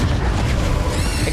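Confringo spell explosion in the Hogwarts Legacy video game, a loud, dense fiery boom that rumbles on without a break for over a second.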